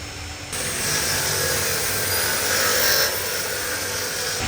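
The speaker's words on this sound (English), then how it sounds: "I'll never get bored of using this saw cutting through thick timber." A power saw cuts through thick timber for a large door frame, a loud steady whine holding for about four seconds after a brief quieter start, with no talking.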